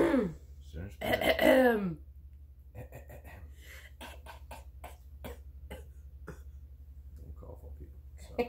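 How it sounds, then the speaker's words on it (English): A single harsh cough near the start, followed by quieter breathy noises and soft clicks over a low background hum. "Don't cough on people."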